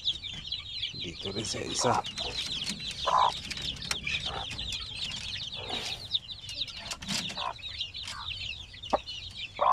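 A native mother hen clucks repeatedly at close range while being fed, with scattered bird calls and someone talking briefly over the farmyard sounds.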